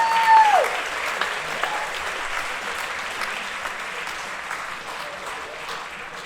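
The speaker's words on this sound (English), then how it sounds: "Big round of applause for Coach." Steady audience applause for a coach at a Tacoma hall of fame tribute event, dense clapping filling the hall at moderate loudness and holding evenly throughout, with a brief voice early on.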